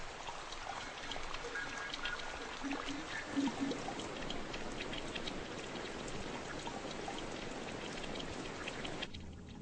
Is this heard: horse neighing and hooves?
no